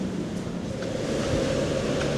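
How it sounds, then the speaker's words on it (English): Strong wind buffets the microphone at the stern of a cruise ship in the fjords of Tierra del Fuego, over a steady low rumble of the ship's engines and machinery, with no voices. "I apologize for the noise, both the wind and the workings of the ship"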